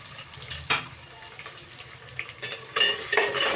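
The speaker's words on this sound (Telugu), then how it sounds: "ఇదే తెపాల్లో కట్ చేసి పెట్టుకున్న ఆనియన్స్ యాడ్ చేసుకోవాలి" Chopped onions go into a hot pan and fry with a crackling sizzle, with stirring clatters and scrapes and a few louder bursts toward the end, close up, with no talking.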